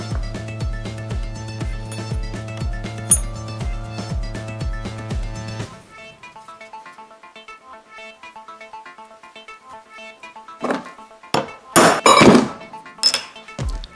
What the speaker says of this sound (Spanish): vamos a marcar donde van los taladros utilizando esta herramienta